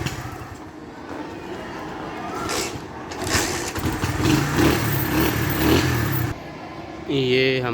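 A motorcycle engine runs nearby at a steady rumble with small rises in revs, while someone talks over it throughout.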